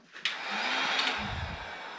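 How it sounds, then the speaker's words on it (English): Heat gun blowing hot air onto a plastic connector clip during an LQ4 engine build, switching on with a click into a steady close whooshing roar that keeps running. "So I'm going to heat it up with the heat gun and see if I can just give it a little push in there"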